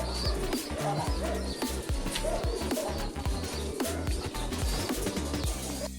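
Racing pigeons coo in a loft, several soft, low throaty calls overlapping in a steady rhythm, close by, with scattered chirps and light rustling and no talking.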